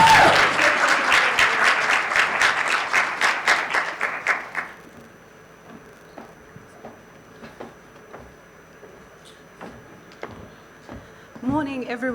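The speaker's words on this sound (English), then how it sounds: "Big round of applause for her" Audience applause at a media and communication mentoring event, dense and loud for about four seconds and then thinning into scattered claps, with a voice starting to speak near the end.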